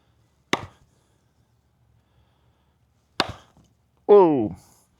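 A Condor Mini Panabus knife chops through nylon rope: two separate sharp, close impacts a few seconds apart, followed by a short voiced exclamation.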